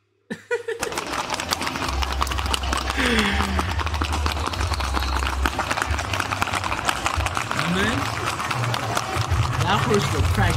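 Hooves of a white albino horse clip-clopping steadily on the ground at close range, with a continuous rhythmic beat under ongoing chatter and occasional laughter from people nearby.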